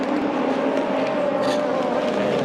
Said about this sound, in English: Oh my goodness, this is some great racing action here between the Takane and Louis and the Komata Kayu cars.